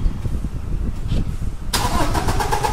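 A Toyota Innova Crysta with starting trouble cranks without catching, its starter churning in a steady rhythmic grind that grows louder and harsher toward the end, close by.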